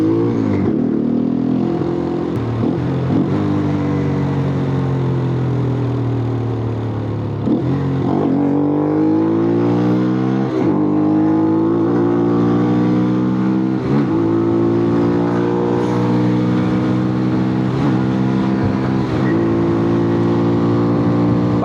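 Malaguti Spectre 125 GP motorcycle engine running continuously while riding, loud and close, with repeated rising revs and brief dips at gear changes; no talking.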